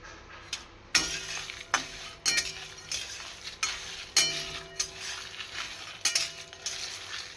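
Spices dry-roasted on a low gas flame while being stirred, with rhythmic close spoon scrapes and clinks against the pan repeating about once a second over a faint sizzle, no voices.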